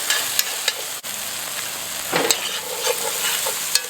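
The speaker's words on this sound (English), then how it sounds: "Give that one more quick stir." A spoon stirring kingfish curry in a pot over oily, tomato-thickened sauce, with scraping strokes and a light clink over a steady close sizzle and no speech.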